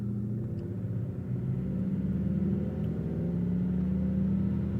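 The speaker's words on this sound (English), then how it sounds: "Porsche in front of us. Okay, that thing sounds good there." Car engine humming and rumbling on the road with a Porsche driving just ahead, a steady low drone with gentle rising and falling pitch, heard from inside a following vehicle with no talking.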